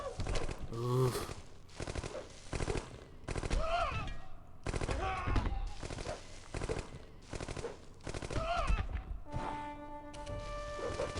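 Machine gun fire from a World War era battle in the strategy game Civilization 4 Realism Invictus comes as repeated rattling bursts at a steady pace, with a few muffled thuds between volleys.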